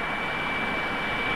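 RAF aircraft engine climbing steadily after takeoff, a continuous loud broadband roar that holds level throughout with no break.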